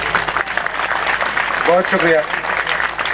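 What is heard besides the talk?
audience applause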